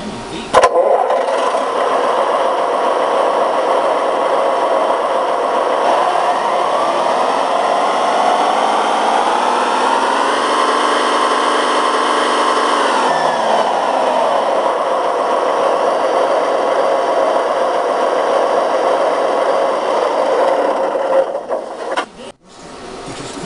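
A large tractor engine runs close by with a loud, steady drone, revving up around the middle before settling back and then cutting off abruptly near the end.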